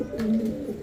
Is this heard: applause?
no